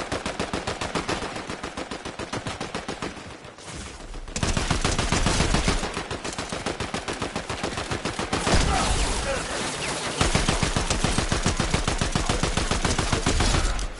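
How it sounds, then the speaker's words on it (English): Rapid gunfire in Fortnite, fast bursts of automatic shots that run almost continuously and loud, with brief pauses between volleys. "Yeah, but they're shooting someone."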